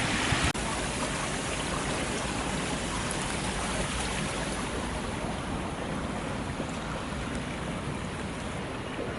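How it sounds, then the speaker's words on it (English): Floodwater pours across Platform 2 at Heald Green railway station like a river, a loud, dense, unbroken rush of flowing water close by, with a single sharp knock near the start. "Platform 2 at Heald Green is literally a river"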